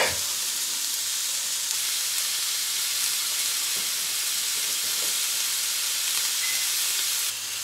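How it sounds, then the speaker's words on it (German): A thin burger patty fries in a pan, giving a steady, close, bright sizzle and hiss that carries evenly throughout without pauses. "Meine Pfanne und rein mit dem Patty."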